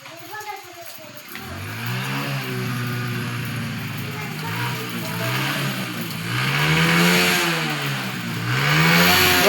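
A Hero Honda motorcycle revs on a rainy road, its engine note rising and falling in repeated surges, loud and close, with wind and rain noise around it.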